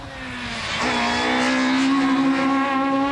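Peugeot 306 Maxi rally car at the 1998 Ypres Rally, its engine note sweeping down then climbing steadily as it drives past at close range, loud and continuous with a slight tyre squeal.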